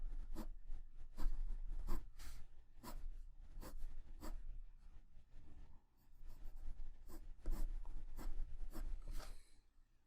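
Colored pencil strokes on paper while drawing hair, a series of quick scratchy flicking strokes in irregular bursts, close and fairly soft, with short pauses between groups.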